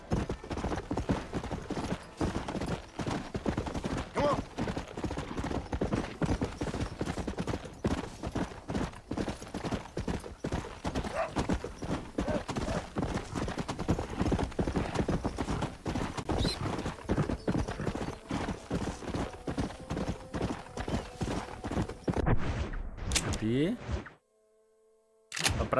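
A horse is ridden in the Western video game Red Dead Redemption, its hooves beating in a fast, continuous rhythm for most of the stretch with speech layered over them, before the sound suddenly cuts out near the end.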